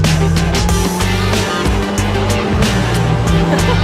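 Lotus Exige S-Club Racer sports car driven hard, a loud steady engine roar with road and wind noise throughout, interrupted by brief shifts in tone as it speeds along.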